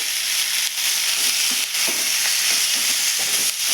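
Sliced onions and curry leaves frying in oil in a pan, with a steady close hiss and sizzle and faint spatters and stirring scrapes throughout.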